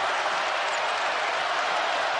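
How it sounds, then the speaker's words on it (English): A sellout basketball crowd in Charlottesville roars during a Virginia versus Houston college game, a dense, loud, unbroken wash of cheering close around the listener. "This sellout crowd rising to their feet in Charlottesville."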